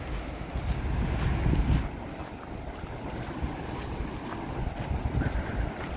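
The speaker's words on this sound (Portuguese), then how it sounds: "Essa é uma cachoeira gigante" A giant waterfall in Patagonia roars as a constant broadband rush of falling water, loud and continuous, with wind buffeting the microphone.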